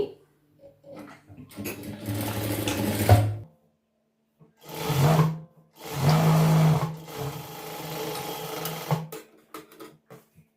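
A sewing machine stitches chudidhar pant pieces together with a seam slightly wider than a quarter inch, running in three loud close bursts separated by short pauses, with a longer, steadier run at the end.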